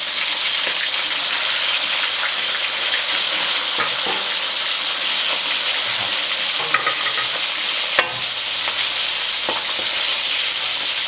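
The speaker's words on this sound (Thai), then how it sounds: "ตอนตอนเราลงไปทอดก็จัดแผ่ๆนิดนึงพอดีเพราะเราหมักไว้อะครับ" Marinated beef spread into hot oil at medium heat fries with a dense, steady crackling hiss, broken by occasional taps and one sharp knock from a utensil against the pan.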